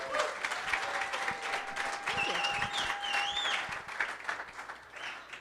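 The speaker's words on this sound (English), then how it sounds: "let's give her a nice round of applause for putting this together" An audience at a tech event gives steady, moderately quiet applause, a dense patter of clapping that holds for several seconds with slight swells, and a few faint voices under it.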